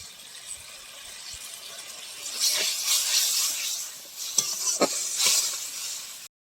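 Spice masala frying and being stirred in a pan for Bengali fish-head muri ghonto; a low sizzle swells into bursts of scraping and crackling stirs, close up, then stops abruptly.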